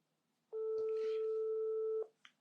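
A single long telephone ringing tone on an outgoing call, steady and loud for about a second and a half, followed by a brief faint click.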